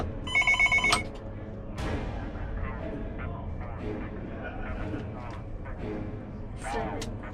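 A telephone bell rings briefly at the start in a short rapid burst, then people talk and move about over a busy background.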